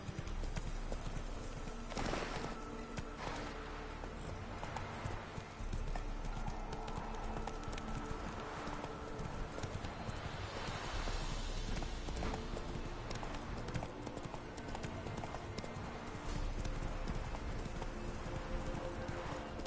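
Horse galloping in The Witcher 3 video game, with a rapid rhythmic clip-clop of hooves and an occasional whinny, against game ambience and faint voices.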